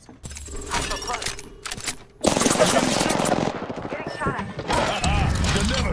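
Rapid automatic gunfire from Apex Legends rattles in loud, dense bursts with short pauses, the shots sharp and close. A voice speaks over part of it.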